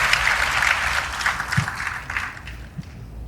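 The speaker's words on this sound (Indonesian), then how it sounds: "Tepuk tangan dulu buat saya yang tadi sudah terlibat memberikan jawaban." A crowd at a youth event with Anies Baswedan bursts into applause, a dense wash of clapping that stays steady and loud throughout, tapering slightly near the end.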